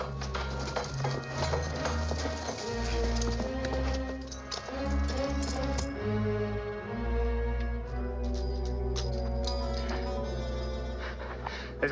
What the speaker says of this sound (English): Let's tie the horses.